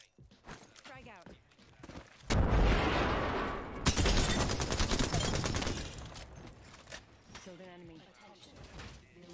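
A grenade thrown and detonating in a solo battle-royale shooter: a loud burst near 2.3 s, a second blast at about 4 s, then rattling gunfire-like crackle fading as players talk throughout.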